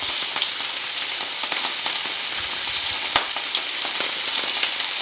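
Shrimp sizzle steadily in a hot pan for a Brazilian moqueca, a dense close frying hiss with a few soft pops and scrapes as they are turned, no voices.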